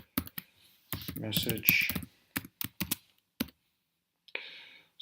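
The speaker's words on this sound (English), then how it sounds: "Type this in" Quick bursts of clicking keystrokes on a computer keyboard come in short clusters separated by pauses, with a voice talking in between.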